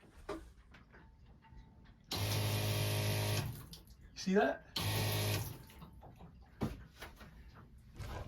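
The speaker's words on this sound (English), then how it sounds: "Hooked it up. Pump works amazing." A small Seaflo electric water pump on a sailboat hums steadily in two bursts, each a couple of seconds long, with a person speaking briefly in between.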